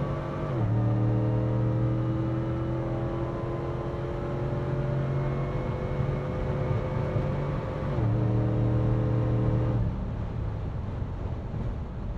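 An 800 HP Hennessey-tuned Cadillac Escalade accelerating hard, its engine droning steadily and rising in pitch through gears with a brief shift, heard from inside the cabin under road and wind noise, without talk.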